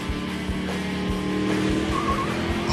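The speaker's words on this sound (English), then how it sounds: "I'm going to put the pedal to the metal." A supercharged Shelby Mustang GT engine drones steadily and loudly at close range, with a low rhythmic pulsing under a sustained, growling tone and no talk.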